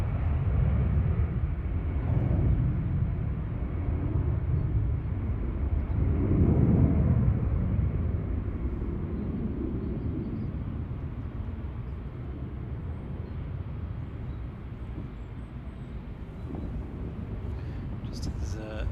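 A Cathay Pacific airliner arrives at Manchester Airport with a broad, steady jet roar that swells and then eases. Wind buffets the microphone throughout.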